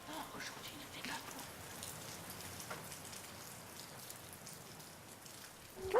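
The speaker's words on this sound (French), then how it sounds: "Chut, on écoute la pluie." Steady rain pattering on a surface, a soft continuous hiss of drops with no other clear sounds, ending in a brief sharp noise.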